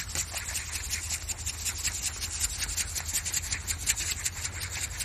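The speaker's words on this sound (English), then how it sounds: "So I'll get the scoop and I'll just scoop up a bit of sand here." A metal detecting scoop digs into sand, giving a continuous close gritty scraping and rasping that holds steady, quiet and unbroken, with no voices.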